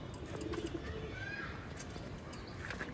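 Giribaz pigeons in a loft give low, repeated cooing over a steady murmur of background noise, with a few faint chirps scattered through.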